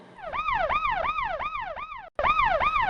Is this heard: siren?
yes